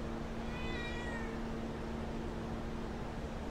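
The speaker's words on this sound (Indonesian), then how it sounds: "oh kucingku pun ikut nimbrung, ikut gangguin" A house cat meows near a metal garage door being cleaned, a short rising call with a steady hum and broadband background noise continuing throughout.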